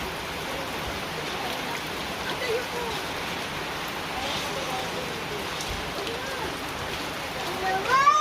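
Heavy rain pouring down at a picnic grove, a dense steady hiss of drops hitting surfaces close by, continuous and loud throughout.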